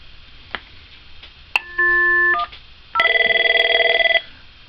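An office desk phone rings out while dialling an internal extension: two short electronic ring bursts, the second longer and richer, clear and close with no talk.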